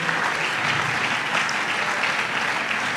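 A church congregation applauds and cheers to acclaim the Lord, a dense, steady wash of clapping that holds at full strength throughout with no talk over it.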